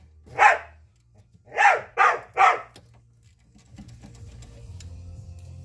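A dog barks four times, one single bark then a quick run of three, loud and near, followed by a quiet low mechanical hum beside a diesel Range Rover being serviced.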